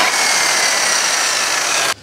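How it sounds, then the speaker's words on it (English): An old-fashioned brushed corded power tool, powered from a Jackery Explorer 2000 Plus portable power station, runs at full speed with a loud, steady high-pitched whine, close by, then cuts off abruptly near the end. "Now this is the most powerful old fashioned brushed power tool I own."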